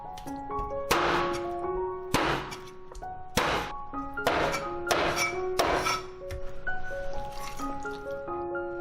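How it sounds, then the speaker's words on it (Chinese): Ginger slices being cut with a knife on a cutting board while preparing a Hakka-style chicken dish, giving a series of about seven sharp, close thunks spaced unevenly over several seconds, with no talk. "再切几片姜。"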